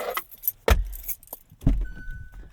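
Keys for a 2024 Hyundai Palisade Calligraphy AWD jangle close up in two sharp metallic shakes about a second apart, with a thin electronic tone lingering afterward.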